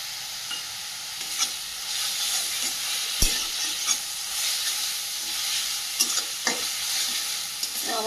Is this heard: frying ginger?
yes